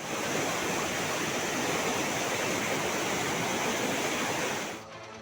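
A swollen river in the Chikkamagaluru hills during heavy monsoon rain rushes past in a loud, continuous roar of churning water, steady and broadband throughout until it drops off abruptly at the very end.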